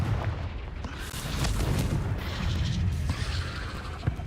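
Confringo blasting-spell explosions in Hogwarts Legacy, a continuous booming, crashing rumble with repeated heavy impacts and debris crackle filling the whole span, no talk.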